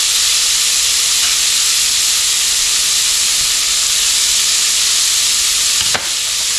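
Bacon, onion and pepper sizzle steadily in a pot on a stovetop, a loud, close, continuous hiss and crackle with no talking.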